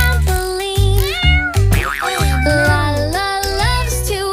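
Cartoon cats in a nursery rhyme meow loudly and playfully in a bright, sung, melodic series over bouncy music, with several rising and wavering meows in a row.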